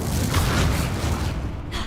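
A fire spell blast in Hogwarts Legacy, a loud, sustained booming rush of roaring fire that fills the whole moment and fades slightly at the end, with no talking over it.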